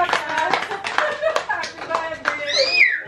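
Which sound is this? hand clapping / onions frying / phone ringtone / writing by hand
hand clapping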